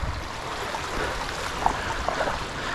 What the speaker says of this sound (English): This is a pretty clean, well oxygenated stream.